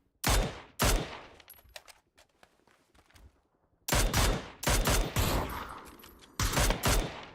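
Rapid gunfire from a first-person shooter video game, arriving in several loud, sharp bursts separated by quieter gaps, with no talk over it.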